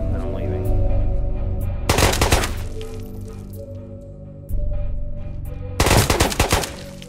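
Gunshots in the VR shooter Ghosts of Tabor, two sharp loud bursts a few seconds apart over a steady droning background hum.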